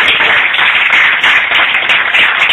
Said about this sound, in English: I want everybody to give a big round of applause for the kids that graduate school.